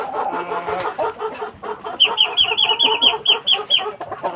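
Rhode Island chickens cluck and chatter continuously in a backyard coop, close and fairly loud, with a rapid run of higher squawking calls partway through.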